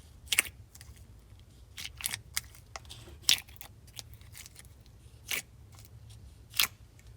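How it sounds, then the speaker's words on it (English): Glossy, stretchy clicky slime being squeezed and played with, giving a series of sharp, crisp clicks and pops at irregular intervals over a low steady background, with no talking. "it is super glossy, stretchy and clicky."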